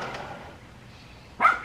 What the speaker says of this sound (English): somebody's dog out there just a yerping?